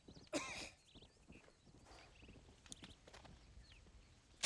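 Horse hooves in Red Dead Redemption 2 on Xbox Series X, a faint, soft clip-clop of a walking horse with light bird chirps in a quiet outdoor ambience.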